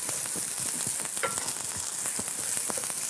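Oyster sauce, sesame oil and soy sauce sizzle loudly in a hot pan, a steady broadband frying hiss with crackles and stirring scrapes throughout, no talking.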